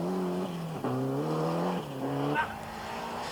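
A Ford Escort Cosworth rally car on a wet Lombard and Ulster rally stage in Northern Ireland revs hard and shifts through gears, its engine note repeatedly climbing, dropping and climbing again at a distance.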